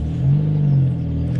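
A loud car engine revs, apparently a diesel with its exhaust still fitted, in a steady deep rumble that swells and eases over a second and a half, close by with no talk.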